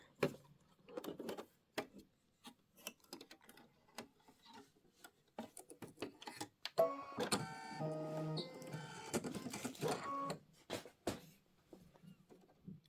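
An embroidery machine stitches the base and stem of a flower in olive thread: faint, quick mechanical ticking in scattered bursts, then a denser run of rapid needle clatter midway before it thins out again. No one speaks.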